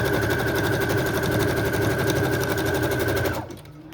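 A sewing machine stitching fabric runs steadily and loudly, its fast even whirring rattle continuing alone before slowing and stopping near the end.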